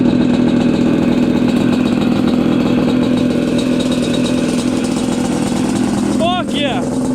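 A Yamaha Banshee motorcycle engine runs at a loud, steady idle, a continuous close two-stroke drone, with a brief voice cutting in near the end.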